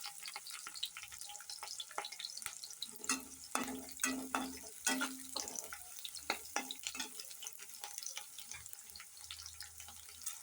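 Green chillies roasting in a pan over a wood-fired stove give a low, steady sizzle with scattered crackles and a burst of sharper pops midway, close and moderately loud, with no voices.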